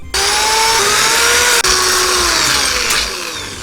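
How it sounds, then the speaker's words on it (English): A power drill whines loudly and steadily while widening holes, the pitch holding at a high constant drone with one brief cut-out before winding down slightly at the end. "We're drilling out some holes."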